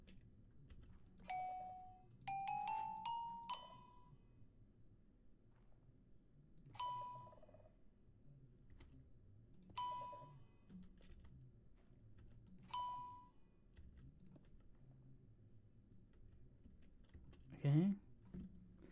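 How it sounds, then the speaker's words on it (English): Bright chime notes from a note block set on a gold block in Minecraft ring out singly and in short clusters over a quiet background hum, with a louder chirp near the end. "we're going to give it a gold block because gold creates chime noise"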